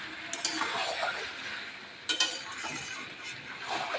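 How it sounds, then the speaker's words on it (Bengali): Chicken kosha sautéing in a pan with a soft frying sizzle and occasional scrape and clink of a spoon against the pan as the masala is stirred, close and moderate. "সুন্দর করে কষে নেব।"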